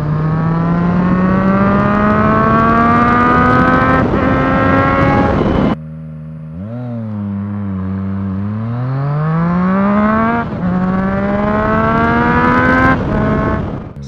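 A car engine revs hard and loud, its pitch climbing steadily through each gear, then dropping sharply at each shift before rising again, with no talking.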